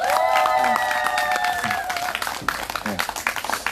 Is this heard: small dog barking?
no